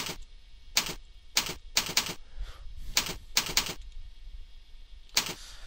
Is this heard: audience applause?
no